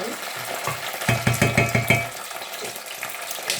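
Tomato sauce is stirred through hot oil in a pan with a run of quick scraping utensil strokes over a soft, steady sizzle, close by and with no talking.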